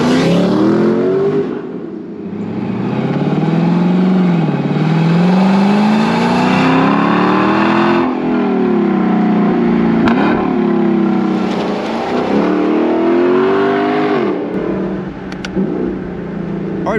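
A 2024 Lexus LC 500 Convertible cruising, its engine note rising and falling through gear changes as a loud, continuous drone heard from the cabin, with no talking.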